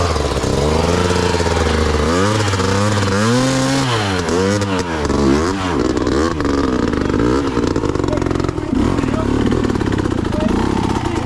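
An enduro motorcycle engine revs hard and high at close range, whining and bouncing through repeated throttle blips before settling into a continuous loud buzzing drone.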